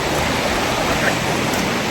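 Broad, steady rushing of a wide river during a crossing, a loud continuous wash of flowing water with no breaks and no voices.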